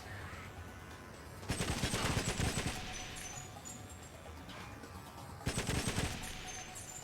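Two bursts of rapid automatic gunfire from the 2004 Xbox shooter GoldenEye: Rogue Agent, each lasting about a second and a half, separated by a quieter stretch of ambient game noise.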